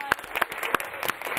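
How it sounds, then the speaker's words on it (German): An audience at a 2021 final show applauds the winner. Scattered, uneven clapping with several sharp individual claps stands out over a busy background, moderately loud. "Riesengroßer Applaus nochmal"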